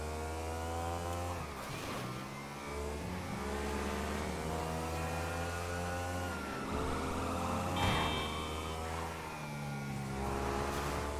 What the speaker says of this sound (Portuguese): O caminhão tá passando em cima da ponte.